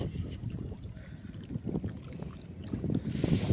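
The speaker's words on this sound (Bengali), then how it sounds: "আর প্রচুর হাওয়া দিচ্ছে এখানে" On a cold winter morning, wind blows at a riverside by an old jetty at Diamond Harbour. It makes a steady, loud buffeting rumble close to the microphone, with no talking.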